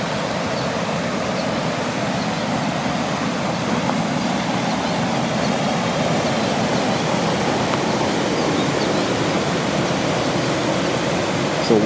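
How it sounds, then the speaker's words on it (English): Waterfall on the Waukegan River off Belvedere Road, a constant broadband rush of falling water that stays loud and steady throughout with no voices. "It's a waterfall flowing down here."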